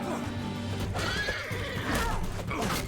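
Horses neigh and whinny amid hoofbeats and battle clamor in a chaotic mounted fight in Mount & Blade II: Bannerlord, with several loud calls overlapping continuous noise.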